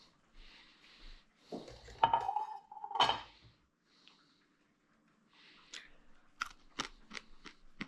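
Dishes clink and scrape in a home kitchen as a plate is taken out, with a few sharp knocks, a sliding ceramic scrape and a run of quick clatters near the end, close and otherwise quiet.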